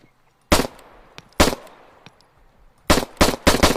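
A .45 ACP pistol fires in the video game ArmA 3. Sharp, loud single shots ring out, two spaced apart and then a quicker burst of three near the end, each with a short echoing tail.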